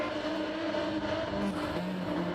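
Several race car engines in Gran Turismo 7 roar together at steady high pitch, a dense layered drone with overlapping tones, loud and continuous.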